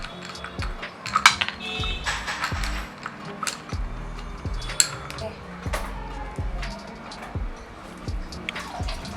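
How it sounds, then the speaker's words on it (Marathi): Spoon scraping and clinking against a bowl as melted chocolate is stirred through roasted almonds, a steady run of close, light knocks and scrapes. "चॉकलेट टाकून व्यवस्थित मिक्स करून घेते।"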